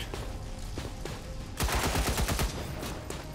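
Rapid bursts of gunfire from a turret fight in XCOM 2, a dense volley of sharp cracks erupting midway and running for about a second, loud over a quieter game background.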